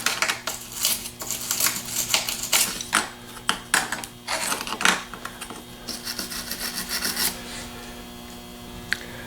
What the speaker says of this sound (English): scrub everything down with a wire toothbrush